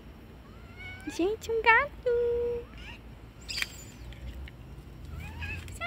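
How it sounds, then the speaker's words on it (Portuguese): A small, fluffy kitten meows outdoors in front of a row of small rental flats, giving several high, drawn-out cries close by while someone speaks softly over them. "Oi, gente. Um gatinho."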